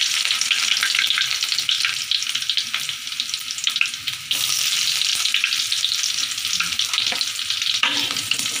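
Garlic frying in reused cooking oil in a pan, a steady dense sizzle with occasional crackles and light stirring, close and continuous with no talking.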